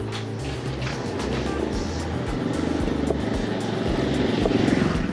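A motorcycle rides through the city streets of Nakhon Ratchasima, its engine giving a continuous rumbling drone that slowly builds in loudness as it speeds up.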